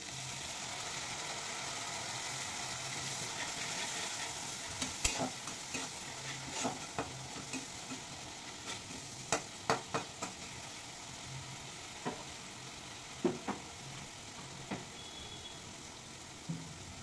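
Ginger paste and ground spice masala fry in oil in a pan, a low continuous sizzle broken by repeated spatula scrapes and sharp clinks against the vessel.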